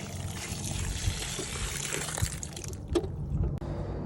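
Water poured out of a dehumidifier's collection tank in an underground bunker, a steady splashing trickle with some clunks, close and fairly loud, no voices.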